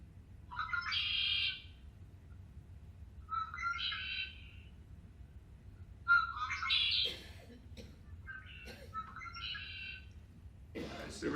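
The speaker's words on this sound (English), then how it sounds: "The red-winged blackbird." Bursts of bright, rough birdsong from a red-winged blackbird, repeated about six times with short pauses between, fairly clear against a quiet background.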